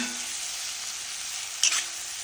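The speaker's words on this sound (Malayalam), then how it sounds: "നല്ലൊന്ന് വഴറ്റി കൊടുക്കാം കേട്ടോ" Steady, close sizzling of ingredients being sautéed in a hot pan for a Brahmin-style chilli fish curry, with a brief scrape of stirring near the end and no voices.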